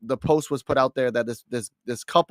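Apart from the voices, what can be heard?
No everyday noise stands out behind the speech.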